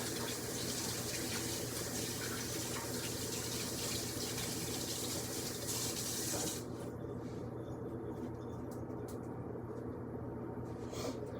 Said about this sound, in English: let me go ahead and wash my hands real quick